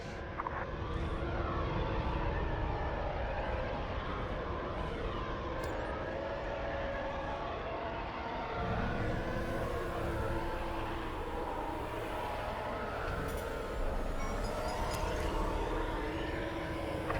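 Steady, loud starfighter engine roar from the Star Wars: Squadrons space combat game, a continuous whooshing drone with shifting tones, holding level throughout with no talk.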